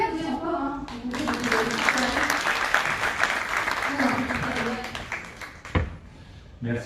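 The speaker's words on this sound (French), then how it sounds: "Vous pouvez applaudir encore," Audience applause at a Tunisian social-entrepreneurship award ceremony, a sustained wash of clapping that swells and fades over several seconds with some indistinct voices mixed in.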